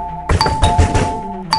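A doorbell rung loudly and rapidly, several sharp chimes in quick succession, close and clear with no talk.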